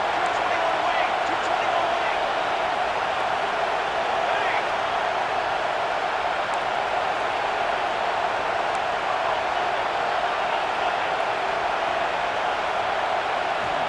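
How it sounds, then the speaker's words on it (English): Stadium crowd roaring in the EA Sports College Football 26 video game, a steady, loud wash of massed cheering and noise that holds unbroken throughout. "this crowd is turning it up a notch"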